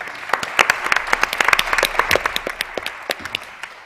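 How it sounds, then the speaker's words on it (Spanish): Audience applause at a public regional talk in Sangüesa, Navarra, with sparse individual hand claps that quickly thicken into brisk, fairly close clapping before thinning out again toward the end. "Un fuerte aplauso, por favor."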